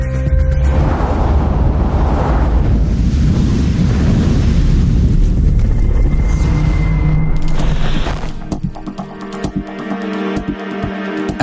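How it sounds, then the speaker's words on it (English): Powerful explosions rumble loud and close, a sustained deep boom rolling for about eight seconds before the blast fades into a quieter, crackling aftermath with scattered pops. "get ready to see the most powerful and terrifying explosions ever caught on camera"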